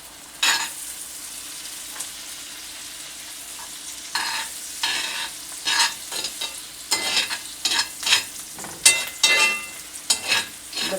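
Jarred minced garlic sautéing in a pot for potato soup, a soft steady sizzle broken by repeated scraping stirs of a utensil, close and fairly quiet with no talking.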